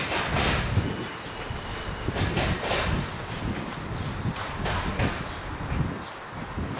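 A train rumbles past nearby between Gara de Nord and Basarab station in Bucharest, with steady rolling noise and faint clatter of wheels on track, continuous throughout.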